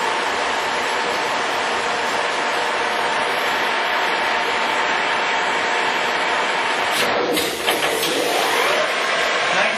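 DeVlieg precision horizontal boring mill with its spindle running, a dense steady broadband machine roar filling the space, with a brief shift near the end as speeds change.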